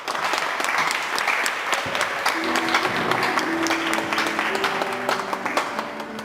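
Congregation at a church prayer service in Norway applauding steadily, dense clapping filling the room with cheers and voices mixed in throughout.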